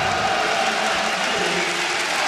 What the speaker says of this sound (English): let's give a cheer here for Global Offensive.